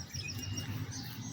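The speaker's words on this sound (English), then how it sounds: "All the noises you're hearing are the natural noises from this area, the birds" Faint, quick chirps and tweets from birds outdoors near a river, soft and brief over a low rumble of ambient background noise.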